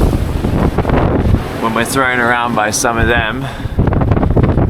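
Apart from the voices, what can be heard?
strong wind gust on a sailboat in the Atlantic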